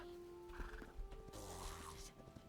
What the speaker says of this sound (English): Oh, look, there's a little baby horse.